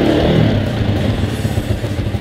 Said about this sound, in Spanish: Echamos a andar la moto, la batería está desconectada